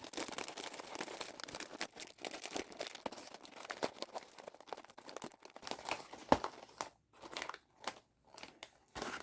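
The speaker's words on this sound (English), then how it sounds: "you're going to want to grab your bag of chips. I just have some Doritos here, and slide it in." A bag of Doritos chips crinkles and crunches in bursts as it is slid into a tight custom sleeve, close-up crackling with short pauses between rustles.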